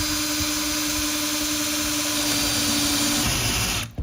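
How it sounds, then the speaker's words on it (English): A power drill bores holes into plywood during a home renovation build, its steady motor whine running loud and continuous for about four seconds before cutting off abruptly at the end. "And then with our drill, we're going to make the holes."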